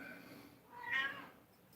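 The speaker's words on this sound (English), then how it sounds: "You silly cat." A house cat meows once around the middle of the short moment, a fairly clear, mid-loud cry over quiet room tone.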